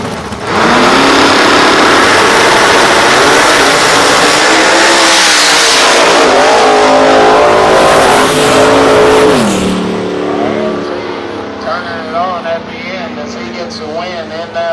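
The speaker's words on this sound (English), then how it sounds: "That Chevrolet wagon taking on Trigolette in the Camaro in the right-hand lane." A Chevrolet wagon and a Camaro launch side by side in a Big Tire class drag race, engines roaring loud and steady, then fading as the cars pull away down the strip.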